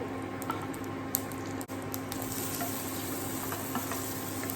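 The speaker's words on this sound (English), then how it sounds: "I will throw in the mustard. Yeah, it's popping." Mustard seeds pop in a little hot oil, giving a quiet, steady sizzle broken by scattered sharp crackles and clicks close at hand.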